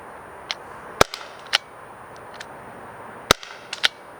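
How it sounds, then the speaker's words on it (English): Byrna LE less-lethal launcher firing Eco Kinetic rounds: a few sharp, fairly quiet pops spread irregularly over a few seconds, two louder than the rest, with faint background hiss between. "Next up, we will be using the Eco Kinetic rounds."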